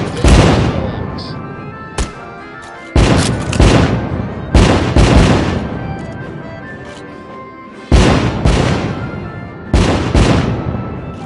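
Fireworks burst in the VR game American Dream, a series of loud, sharp explosions close by at irregular intervals, each trailing into crackling decay.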